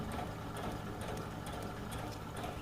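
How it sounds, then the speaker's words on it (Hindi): A sewing machine stitches the neckline of a kameez, starting from the centre seam, and runs as a steady, fast mechanical chatter at close range throughout, with no pauses. "तो देखिए सबसे पहले सेंटर से सिलाई लगाएंगे"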